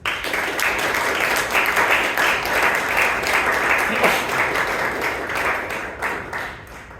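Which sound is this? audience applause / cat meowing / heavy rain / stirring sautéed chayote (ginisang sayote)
audience applause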